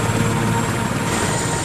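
Loud, steady rotor roar of a helicopter skimming close over the treetops, a dense continuous engine drone throughout.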